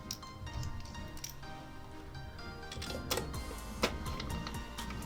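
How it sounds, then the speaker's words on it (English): Small screws being driven back into a PlayStation 4 Pro during reassembly after an optical disc drive replacement, giving light irregular ticks and clicks up close with faint handling noise around them. "we just rescrew all the screws"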